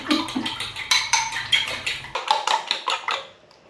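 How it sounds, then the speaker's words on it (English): Three eggs are whisked briskly in a bowl for a marmalade cake, a rapid run of close metallic clinks against the sides that keeps a quick, even rhythm. "Give them a whisk."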